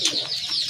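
A domestic tiger-coloured pigeon coos briefly and close by, a short soft call with no talking over it.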